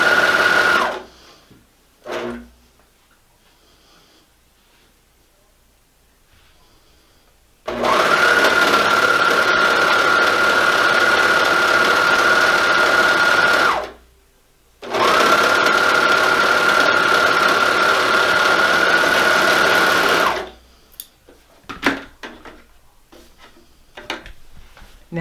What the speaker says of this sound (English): Now I've got this whole side seam serged in with the sleeve.